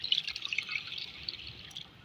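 Reserved beef water is poured into a karahi of cooked beef, heard as a faint, close trickle and patter of liquid that continues for about two seconds.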